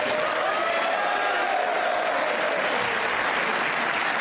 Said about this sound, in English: The crowd don't want to see the end of Naoyuki Oi just yet